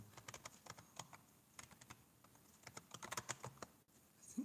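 Rapid typing on a computer keyboard, close and fairly quiet, with irregular bursts of key clicks and brief pauses, no voices.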